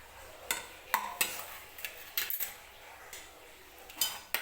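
Finely chopped onion goes into hot oil in a pressure cooker while chicken sukka is being made, bringing scattered quiet metallic clinks and taps of a spoon against the pot in an irregular rhythm.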